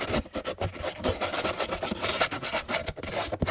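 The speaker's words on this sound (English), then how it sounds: "Scrape my dish out, get it all in there." Wet concrete mix scraped out of a mixing dish while casting the small cap for a concrete vessel, a close, continuous rough rasping and rubbing with short irregular strokes, heard alone.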